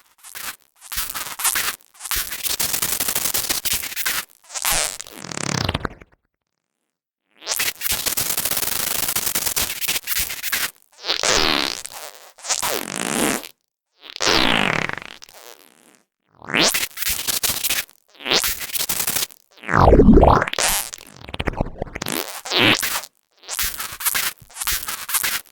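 Synthesized fart sounds from the Fart Machine plugin, a series of loud, close, buzzy and raspy bursts of varying length separated by short gaps and one longer silence, with no voice.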